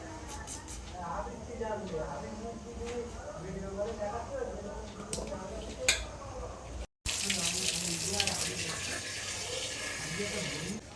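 Tap water runs steadily into a sink as potatoes are rinsed in a home kitchen, with a brief cut partway through and the flow continuing loud and close.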